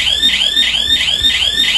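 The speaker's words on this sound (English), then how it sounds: "the alarm makes a loud noise to frighten the intruder" A security robot's intruder alarm sounds loudly and steadily: a shrill electronic siren sweeping up and down in fast repeating cycles, with no talking.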